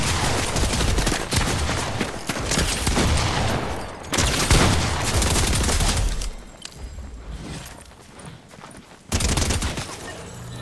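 SMG gunfire in the video game Fortnite: dense bursts of rapid automatic shots in several runs with short pauses between, loud and close.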